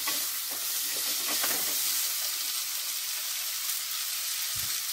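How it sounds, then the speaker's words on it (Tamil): Chopped onion and green chilli frying in oil in a pan for tomato scrambled eggs, a loud, continuous hissing sizzle with a few faint stirring scrapes and no voices. "வெங்காயத்தையும் பச்சை மிளகாயும் எடுத்து ரெண்டையும் ஆயில்ல வந்து ஃப்ரை பண்ணுவோம்."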